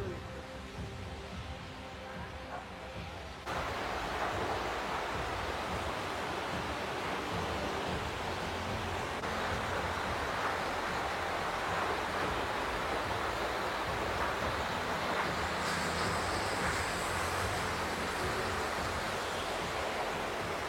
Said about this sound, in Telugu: finally at near water fall దగ్గరకు వచ్చాము